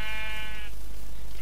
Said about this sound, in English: I think that's sheep over there, yep